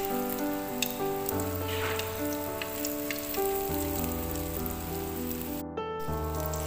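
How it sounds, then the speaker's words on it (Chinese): Banana pieces deep-fry in oil over low heat, giving a continuous bubbling sizzle with soft crackles while a steady tonal hum runs underneath. "炸的时候要不停的翻动"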